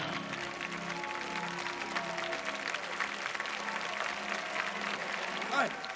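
A church congregation applauding in praise during a French sermon, a steady, moderately loud wash of clapping that lasts throughout, with some voices and background tones mixed in.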